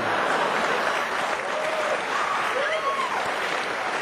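Students applaud together, a steady, dense wash of clapping that stays loud and even from start to finish, with no separate voices standing out.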